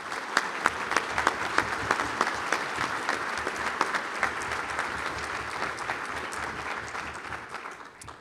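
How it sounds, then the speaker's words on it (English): Applause for a scholarship winner at a county government event, a steady crowd clapping that holds for several seconds before tapering off. "So round of applause."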